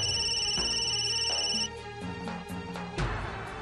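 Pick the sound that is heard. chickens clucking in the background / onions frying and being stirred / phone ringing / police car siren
phone ringing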